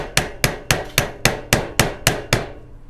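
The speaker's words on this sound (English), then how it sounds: "I'm going to take my wooden mallet." A wooden mallet hammers repeatedly, nine crisp knocks at a steady pace about a quarter second apart, close and clear with no talk.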